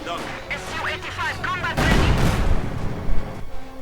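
Mortar shells land in Company of Heroes 2 as booming, rumbling blasts and scattered gunfire, loud and heavy, with a commentator talking over the battle.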